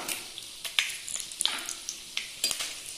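Quarter teaspoon of cumin seeds and two green chillies frying in hot oil for a Chettinad-style potato dry roast: a steady close sizzle broken by sharp crackles and pops, with no voices.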